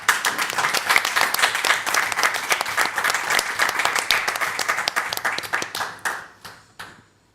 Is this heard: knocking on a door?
no